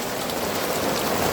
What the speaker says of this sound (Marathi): दिवसभर पाऊस पडते आज.